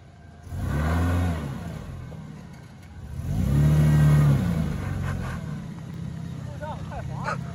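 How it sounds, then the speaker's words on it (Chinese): Toyota Land Cruiser LC76 or LC80 revving on a slippery off-road forest track, two loud surges of engine revs rising and falling, with people talking in the background. "好，一脚油门上来"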